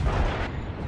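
A single loud, heavy cannon shot from a battleship in the naval video game World of Warships Legends: a brief, booming blast with a rumbling tail, close and lasting under a second.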